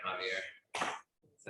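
A single sharp sneeze bursts out during a municipal board meeting, followed by a second shorter burst and brief talk in the room.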